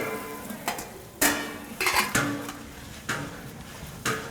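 Brinjal pieces fry in oil with masala for a Muslim-style gravy, a steady low sizzle broken by several sharp spatula scrapes and stirs against the pan, close and clear with no talk.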